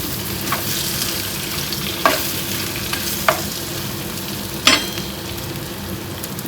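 Drumstick and tomato pieces fry in a pan for a Kerala-style fish curry made without coconut, with a steady sizzle throughout and a few sharp stirring scrapes and clatters standing out.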